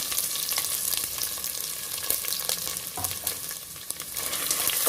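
Dried red chillies and peeled garlic cloves fry in oil with a crackling sizzle, uneven and lively, broken by brief stirring scrapes, close and moderately loud without talk.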